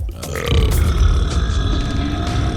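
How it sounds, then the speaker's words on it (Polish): A loud, long, close burp rumbles and gurgles for over two seconds, steady and deep with no talking over it. "Ups, muszę beknąć."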